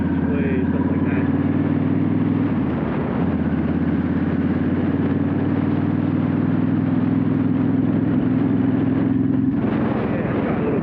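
A Yamaha V-Star 1300 cruiser engine on a test ride, droning as a steady low rumble with a roar of wind, shifting character near the end as the rider goes up into fourth gear.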